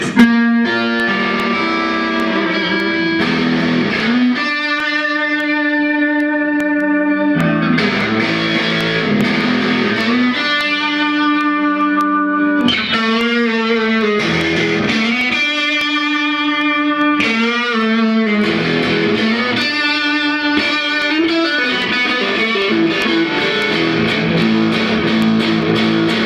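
An electric guitar plays through an amp's drive channel with crunchy distortion, loud sustained chords rung out in repeated phrases with brief gaps, continuing alone for the full length.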